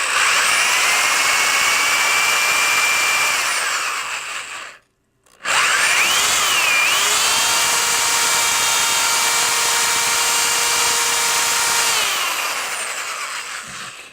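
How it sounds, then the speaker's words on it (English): Power drill spinning sandpaper wrapped around a shaft while restoring an arcade cabinet part, a loud steady whine that cuts out briefly halfway, restarts and runs on before fading. "the drill will do most of the work"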